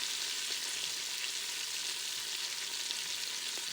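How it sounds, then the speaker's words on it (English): Onions sauté in a pan with a steady, soft, even sizzle. It is quiet and continuous, with no voices. "I want them to saute a little bit."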